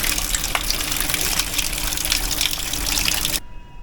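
Water runs steadily from an outdoor shower at a Bali villa in Sanur, a continuous close hiss that cuts off abruptly near the end, leaving faint background.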